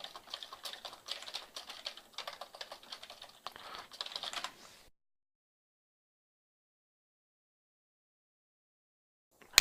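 Quick, light keystrokes on a computer keyboard as a description is typed, a close irregular patter of clicks for about five seconds before falling silent.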